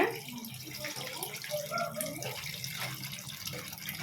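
Water poured slowly from the side into a pot of mud-fish curry, a soft continuous trickle and splash at moderate distance.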